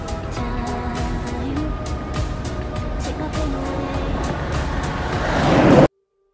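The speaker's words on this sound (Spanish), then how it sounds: "Vale, tengo que parar que viene un coche." A car approaches on a street while a rider cruises on a longboard: steady road and rolling noise swells louder toward the end before cutting off, with some voice mixed in.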